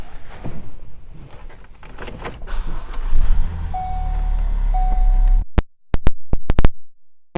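Power windows, locks and mirrors working on a 2016 Ford Focus SE, low motor whirring with a brief whine and then a quick series of sharp lock clicks close by.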